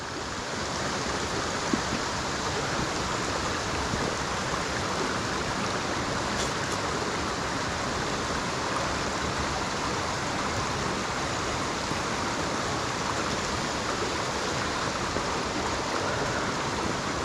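A waterfall cascades down a steep, muddy bank near Askrigg, a steady, broad rushing roar of falling water that fills the whole stretch without pause, loud and close, with no voices.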